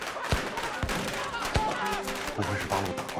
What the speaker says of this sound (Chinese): 什么声音？ 像是枪声。